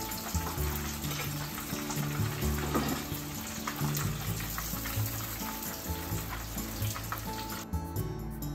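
Menchi katsu, Japanese minced meat cutlets, sizzle and crackle in hot frying oil, a dense, steady hiss with scattered pops close up, ending with a brief louder rustle; no one speaks.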